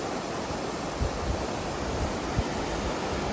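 A swollen river running unusually high after rain rushes past in a steady, close, broadband roar, with a couple of faint thumps in the flow and no voices.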